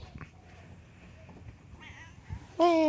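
A cat lets out a loud, clear meow near the end, after a stretch of quiet background noise with a few faint, shorter cat sounds.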